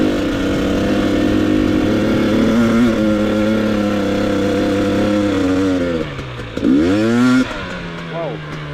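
A GasGas EX250 dirt bike engine runs steadily under load during a ride, then revs up sharply with rising pitch sweeps near the end, loud and close throughout.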